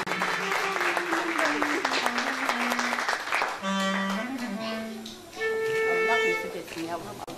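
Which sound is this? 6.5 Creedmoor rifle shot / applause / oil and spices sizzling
applause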